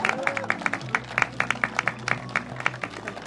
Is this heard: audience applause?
yes